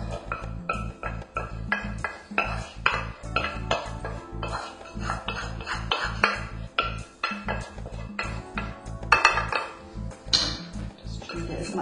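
A utensil scrapes courgette out of a bowl, making a string of quick, close clinks and scrapes on the dish in an uneven rhythm, with short pauses between strokes.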